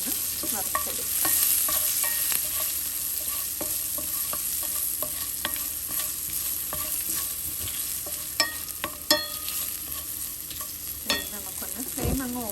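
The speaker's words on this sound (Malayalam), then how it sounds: "അപ്പം ഒന്ന് നമുക്കിതെല്ലാം കൂടെ ഒന്ന് വറുത്തെടുക്കാം" Green chillies, some of their seeds removed, sizzle steadily in hot oil in a pan while a spoon scrapes and stirs them, with a few sharper clinks near the end.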